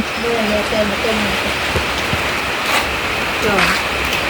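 Rainy-season rain falls in a steady, loud hiss near a small hut. Voices talk intermittently over the constant downpour.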